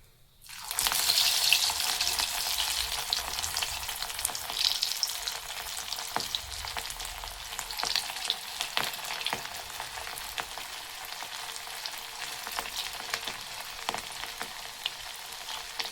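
Potato twists drop into hot oil and fry with a loud, steady sizzle and crackle that continues for the whole stretch.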